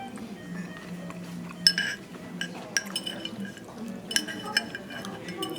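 Pine mushroom consommé poured at a fine-dining dinner course, a soft liquid trickle under a few sharp glass and tableware clinks, close and fairly quiet.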